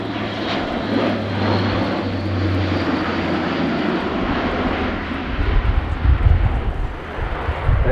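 An Airbus A400M military transport aircraft performs a flying display at RIAT, its propeller engines sending a loud, continuous roar overhead as it climbs and turns, with deep rumbling surges toward the end.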